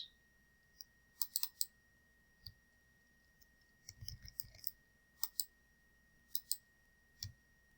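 Keys on a computer keyboard are tapped in scattered short bursts of clicks with pauses between them, faint and close, while a quiet steady tone hums underneath.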